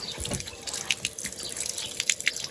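Cold well water poured while washing feet, splashing and dripping in irregular bursts close by, with scattered sharp drops and trickles between quieter gaps.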